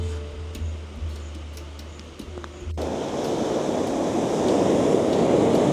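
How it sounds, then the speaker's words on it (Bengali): Sea waves wash onto a sandy beach at midday. After a quieter stretch with light ticking sounds, a broad, steady rush of surf swells up and keeps building, close and fairly loud. "এই সময় সমুদ্রের যা ঢেউ, তাতে গরম এক মুহূর্তে ছুমন্তর।"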